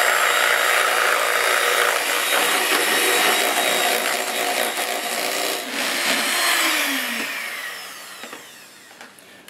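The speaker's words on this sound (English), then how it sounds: "And I'm going to whisk that up." An electric mixer whisks six egg whites with sugar for a lemon meringue pie, a steady loud whirring hum that shifts in pitch and eases off toward the end.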